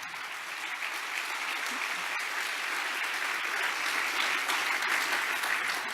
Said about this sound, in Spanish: Dale un buen y fuerte aplauso al Señor